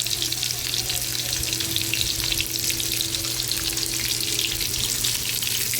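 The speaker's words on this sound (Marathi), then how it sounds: "सगळ्या बाजूने व्यवस्थित परतून घ्यायची कारली" Stuffed bitter gourds fry in oil in a pan, giving a steady, close, continuous sizzle with a faint hum underneath throughout.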